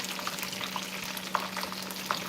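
Pieces of food fry in a pan with a steady, moderately quiet crackling sizzle, scattered brighter pops rising above it; no voices.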